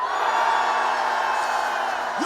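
A rally crowd gives a sustained, loud collective shout, a dense roar of many voices held steadily for a couple of seconds.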